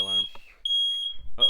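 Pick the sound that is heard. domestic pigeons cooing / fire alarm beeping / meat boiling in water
fire alarm beeping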